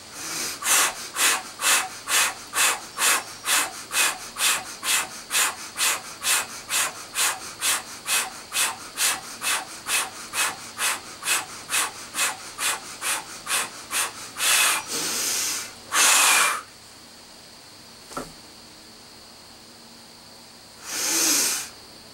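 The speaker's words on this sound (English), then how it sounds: "After you're done, you exhale it out and go right back into the rhythmic breathing." Rhythmic breathwork: a long series of quick, evenly spaced forceful breaths, about two per second and close to the ear, ends in a few longer exhales, a quiet pause, then one more drawn-out breath.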